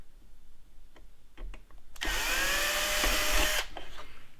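A few light taps and clicks, then a small power drill with a 1.5mm bit spins up and whirs loudly for under two seconds, drilling a bed insert for a Traxxas TRX6 RC truck, before cutting off.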